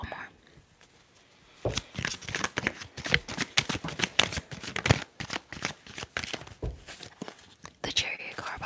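Tarot cards are shuffled close up in a rapid, crisp run of riffling and slapping that lasts several seconds after a quiet start, with faint whispery sounds now and then.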